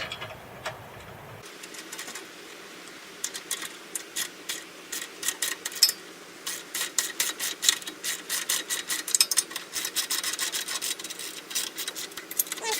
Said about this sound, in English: I'm just going to snug these bolts down.